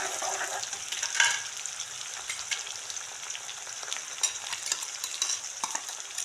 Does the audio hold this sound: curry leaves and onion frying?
yes